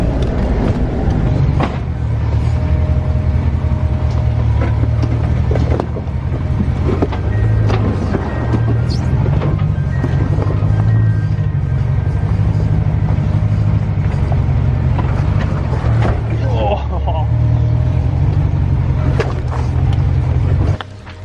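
A V8 Land Rover Discovery 4WD crawls down a steep stepped track, its engine a low, steady rumble with wind buffeting the microphone and occasional knocks and clunks, loud and continuous throughout.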